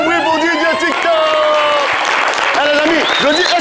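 A studio audience claps and cheers for a DJ at a live show, the applause sustained and loud, with voices talking over it.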